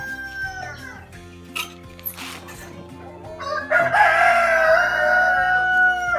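Bantam rooster crowing up close and loud, preceded by softer clucks and farmyard chatter from young bantam chickens, with a low steady hum underneath.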